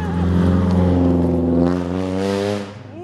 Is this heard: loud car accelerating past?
yes